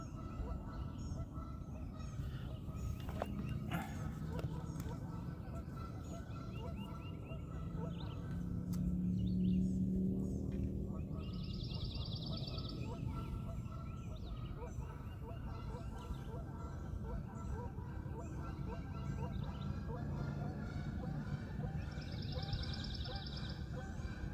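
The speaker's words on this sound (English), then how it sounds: "There's a lot of geese out here this morning." Geese honk on the water on a morning kayak trip, repeated nasal calls at a moderate distance over a low background of water and paddling noise, with a voice speaking briefly.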